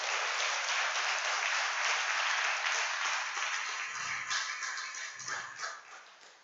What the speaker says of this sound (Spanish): Aplaudamos fuerte al Señor